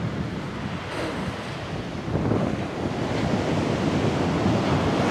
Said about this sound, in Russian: Вот это волны.